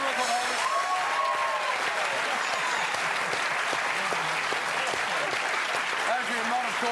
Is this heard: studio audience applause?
yes